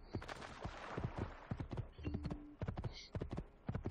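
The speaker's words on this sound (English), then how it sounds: "Let's get on this horse." Horse hooves clip-clop in a brisk, regular rhythm in Assassin's Creed 2 gameplay, crisp and close, with a short whinny-like tone and faint game ambience between steps.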